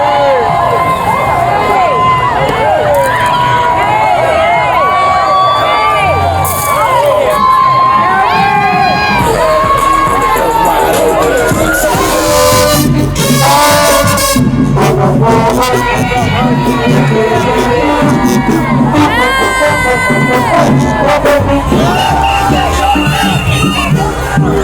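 A dense Mardi Gras festival crowd in New Orleans around the Zulu parade, loud cheering, whoops and children shouting over constant babble and whistles, close and continuous with voices throughout.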